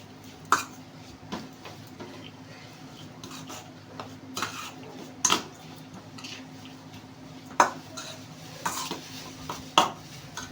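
A spoon mixes cabbage muthiya batter with sugar, baking soda and salt in a bowl. Quiet scraping is broken by sparse, sharp clinks of metal against the dish, irregular and close, with no talk.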